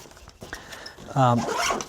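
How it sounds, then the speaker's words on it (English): Zipper pulled closed around the clamshell of a padded camera backpack, a quick rasping run that grows loud in the second half, with a low murmur before it. "then the clamshell zips closed"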